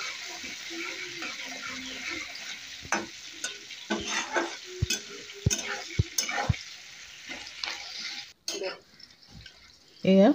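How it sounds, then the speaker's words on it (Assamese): Chopped onions fry and sizzle in oil in a pan alongside cardamom, cloves, cinnamon and a bay leaf for a mutton curry, with a steady close sizzle broken by repeated stirring scrapes and clinks. "পিঁয়াজখিনি ভালদৰে ফ্ৰাই কৰি ল'ম।"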